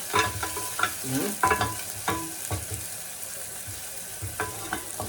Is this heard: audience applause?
no